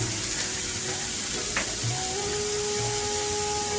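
Potato and papaya stir-frying with shrimp, green and ripe chillies and chopped tomato in a pan, giving a steady close sizzle with soft stirring scrapes and a brief clink.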